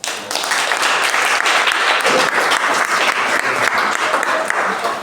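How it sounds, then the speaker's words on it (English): Audience breaking into loud applause at the close of a conversation about the plays Broken Pots and The Retrial of Ken Saro-Wiwa, a full, close, sustained roar of clapping with no pause. "Please a round of applause."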